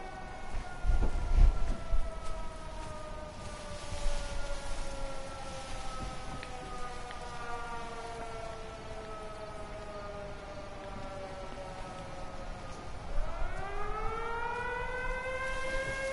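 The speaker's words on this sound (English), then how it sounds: "There's a siren going off." A siren wails in the video game Everybody's Gone to the Rapture: a long, loud, steady tone slides slowly downward, then sweeps back up near the end. It sounds alone, without voices.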